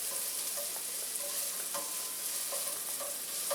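Scrambled eggs with bacon being stirred in a pan: a constant hiss of frying with faint, occasional scraping taps from the spoon, fairly even throughout.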